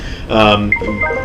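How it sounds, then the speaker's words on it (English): A mobile phone's tonal ring or notification chime sounds briefly and close by, standing out against ongoing talk. "Sorry, that was my phone."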